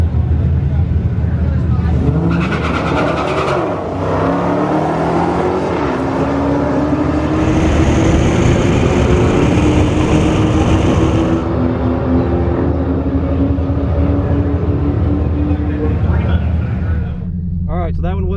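A Dodge Hellcat makes a drag strip run at the Blue Grass Nationals, its engine already hot from hot laps. The loud engine roar climbs in pitch through several gear changes, then eases off near the end.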